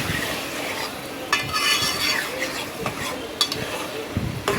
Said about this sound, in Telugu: పక్కకు పెట్టుకున్న ఈ లివర్స్ని అయితే ఉల్లిపాయ పచ్చిమిర్చి మనం ఫ్రై చేసుకుంటున్నాం కదండి ఆ పోపులోకి అయితే వేసేసుకోవాలి